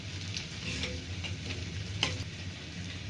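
Ginger garlic paste frying in a pan for a bottle gourd masala curry, with a steady close sizzle and occasional light stirring scrapes, no talk.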